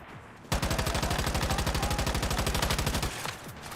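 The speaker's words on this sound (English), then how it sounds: "Damn, I shot at the wrong person." Sustained automatic gunfire from a shooter video game rattles in a rapid, even burst lasting about two and a half seconds, loud and close, after which it cuts off and a quieter background remains.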